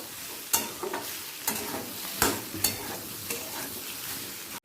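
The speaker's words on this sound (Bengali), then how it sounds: "আদা বাটাটা দিয়েও একবার ভালো করে আলুর সাথে মিশিয়ে নেবো" Ginger paste being stirred into partly cooked potatoes in a pan for a potato curry, a low sizzle punctuated by several distinct scrapes and knocks of the spoon at irregular intervals.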